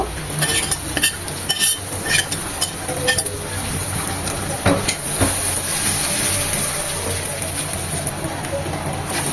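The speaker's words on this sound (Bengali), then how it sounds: "এই পেঁয়াজ আর তেলের সাথে এই মাছটাকে একটু ভাজা ভাজা করে নেব" Whole hilsa fish frying for kebab with softened onion and green chili in hot oil, a steady sizzle with scattered clinks and scraping from stirring, fairly close throughout.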